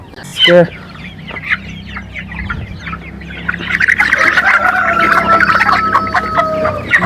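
Chickens on a poultry farm cluck and squawk as they are caught for sale. The calls come scattered at first, then swell into a loud, busy chorus close by, with a brief thump near the start.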